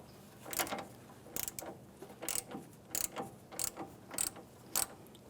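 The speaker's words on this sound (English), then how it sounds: "we're going to use an 18 millimeter wrench to hold the actual part in place, and we'll torque it down" An 18 mm wrench tightening a strut assembly on a 2007-2013 Acura MDX gives off faint, intermittent bursts of ratcheting clicks and metallic turning, spaced irregularly with quiet gaps between them.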